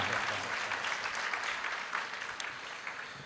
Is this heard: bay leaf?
no